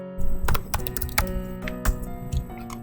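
A computer keyboard is tapped in short irregular bursts of crisp clicks as a column name is typed into a spreadsheet, close and clear with no one talking.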